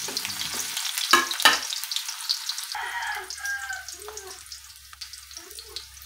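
Onion and garlic sautéing together in olive oil in a pan, a steady sizzle with a few sharp clinks early on and quieter frying later, heard alone without talk.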